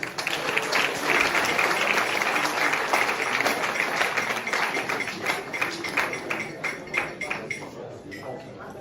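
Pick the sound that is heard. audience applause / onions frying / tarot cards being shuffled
audience applause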